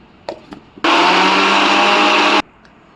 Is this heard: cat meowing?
no